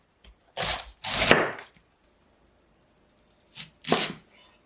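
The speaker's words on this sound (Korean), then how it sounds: "양배추는 적당한 굵기로 2줌 정도의 양으로 잘라줄게요." Crisp knife strokes slice through cabbage against a cutting board, a quick burst of cuts, a pause, then a few more slices, close and clear.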